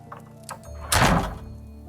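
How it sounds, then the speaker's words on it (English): Doors shutting in the detective game Contradiction: Spot The Liar, heard as a single loud thunk near the middle over a quiet room tone, with a few soft knocks before it. "Just close the doors, shall I?"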